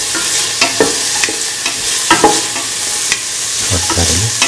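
Garlic and ginger fry in a hot pan, a loud constant sizzle broken by repeated scraping stirs of a utensil, close up with no voices.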